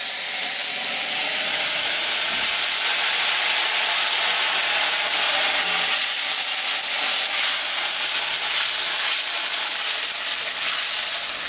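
Dry chilli, garam masala, cumin and a bay leaf sizzling in hot oil for a fish curry, a constant bright hiss close by with no break and no talk.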